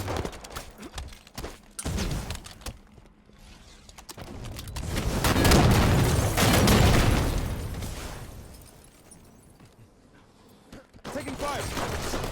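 Gunfire and explosive bursts in a competitive sudden-death shooter match, with scattered shots early, then a loud sustained barrage swelling mid-clip before fading to sparse cracks, while players talk over it.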